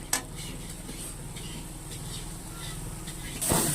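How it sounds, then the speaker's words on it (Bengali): Red amaranth greens with poppy seeds stirred and fried in a pan over a gas flame, a soft steady sizzle with a sharp utensil clink at the start and another scrape near the end, close and fairly quiet. "ভালো করে নাড়িয়ে ভেজে নিচ্ছি"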